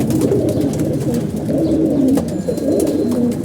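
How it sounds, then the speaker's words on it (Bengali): Pigeons coo close by in low, soft, overlapping calls that repeat continuously over a quiet background, with no talk. "কবুতর কীভাবে খাবার খাইতেছে।"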